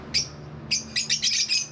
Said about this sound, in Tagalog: Ingay ng ibon natin.